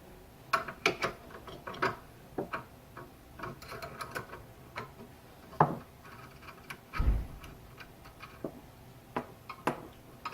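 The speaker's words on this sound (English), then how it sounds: "use a 13mm wrench or a socket, and you just loosen up the pieces here until you can freely move them" 13 mm wrench or socket loosening fittings on a KleenJet Ultra 5000CVP solenoid valve: irregular metallic ticks, ratchet clicks and small clanks, close and fairly quiet, with no talk.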